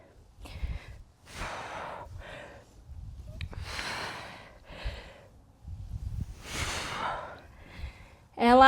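Heavy, labored breaths during a mini-band circuit workout for runners, a series of loud gasping inhales and exhales in an uneven rhythm, close to the microphone, with a short tonal burst at the end.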